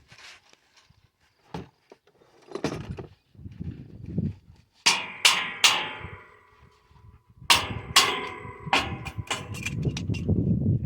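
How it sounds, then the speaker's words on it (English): Sharp metallic hammer blows ring out on parts of a side roll irrigation pump, arriving in irregular bursts of two or three close strikes with clanging decay between them, set against quieter handling noises. "Get the hammer."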